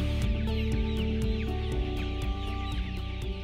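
Several chickens from a small donated flock cluck near and far at a rural coop in Bac Ninh, Vietnam, with steady clucking and the odd crow over a constant background hum.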